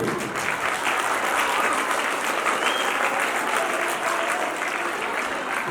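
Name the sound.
audience applause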